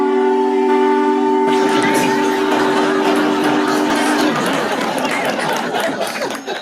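A factory whistle sound effect in a radio panel game set up north: a sustained tonal blast at first, then giving way to loud rumbling and clattering noise with faint crowd chatter underneath.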